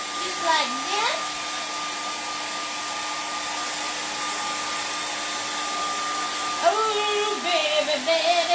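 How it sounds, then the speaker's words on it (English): Hair dryer blowing steadily on freshly painted flowers on a canvas, a constant loud whooshing hum that runs the whole time, with faint music and brief voice-like sounds drifting in underneath. "So grab that hair dryer. Make sure they're all dry."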